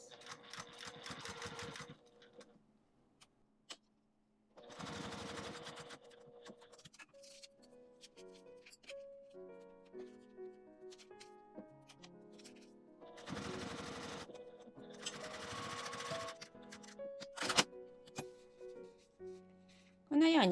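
A sewing machine stitches a clear plastic pocket pouch in several loud bursts of rapid mechanical whirring, separated by quieter pauses filled with soft handling, rustling and faint tones.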